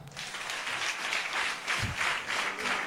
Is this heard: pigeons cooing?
no